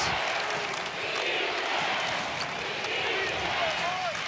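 Basketball crowd cheering in the Lawlor Events Center arena during a Utah State at Nevada college game, a dense roar that holds steady throughout, with an announcer talking over it.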